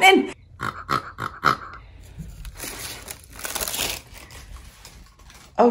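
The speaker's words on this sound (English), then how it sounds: "did you hear that pig?" A polka dot pig dog toy gives a series of squeaky grunts, about six quick bursts in the first couple of seconds, loud and close, followed by crinkling rustle from the toy or its packaging and a final grunt at the end.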